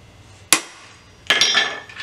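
A hammer stamps down rivets on a Kydex knife sheath, two sharp metallic strikes about a second apart, the second ringing on longer, close and loud with no talking.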